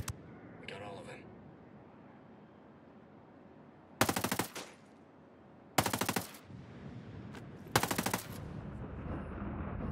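Three loud bursts of rapid automatic machine-gun fire in a Ghost Recon combat game, each about half a second long and evenly spaced over a quiet background, with a voice calling out amid the shooting.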